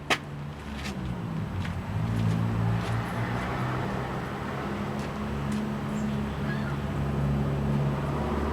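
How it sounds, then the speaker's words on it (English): An engine starter motor cranks with a sharp click at the start, then a sustained whirring drone that winds down as the starter slows, recorded close beneath the starter. "You hear how it spins down when the starter slows down?"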